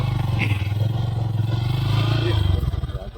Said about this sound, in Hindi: ये देखिए बाइक चला रहा है बर्फ में